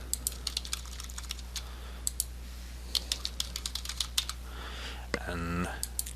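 Text typed on a computer keyboard, a quick irregular run of close, crisp keystrokes over low hum, with a short burst of other noise near the end.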